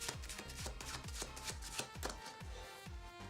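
A deck of playing cards shuffled by hand in blocks: soft, close taps and slaps repeat in a steady quick rhythm, about two or three a second, with no talking.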